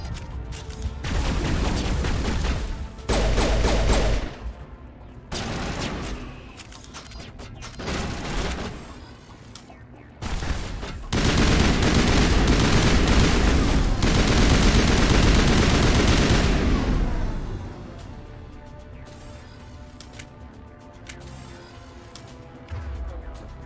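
Bursts of sniper rifle gunfire in a video game, loud and rapid, cracking out in several clusters with a long sustained volley in the middle and fading to quieter mechanical noise at the end.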